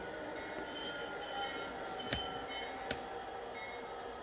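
A model train on a freight layout eases to a halt, a steady electric hum and rolling hiss punctuated by two brief metallic clicks, fairly faint and with no talk.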